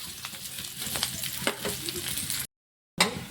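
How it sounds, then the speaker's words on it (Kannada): Ridge gourd curry ingredients frying in a pan, a continuous bright sizzle with stirring scrapes, broken by a short gap of silence before the sizzling resumes. "ಇದೆಲ್ಲ ಒಂದು ಸ್ವಲ್ಪ ಫ್ರೈ ಮಾಡ್ಕೊಂಡು ತಗೋತೀನಿ"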